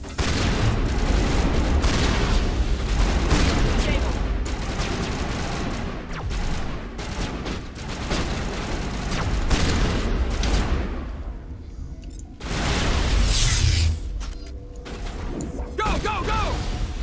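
Dense gunfire crackles through a Mass Effect firefight, rapid shots and bursts overlapping with booming impacts over a long stretch, easing briefly before resuming, with voices shouting amid the shooting.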